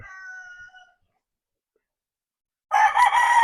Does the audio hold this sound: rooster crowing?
yes